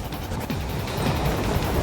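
A moving train rumbles in the action game Metal Gear Rising: Revengeance, a dense continuous rattle and roar with faint rhythmic clatter, loud and without voices.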